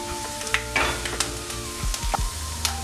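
Ginger pieces fry in hot oil with a close, continuous sizzle while a ladle scoops them out, adding light metallic clinks and scrapes.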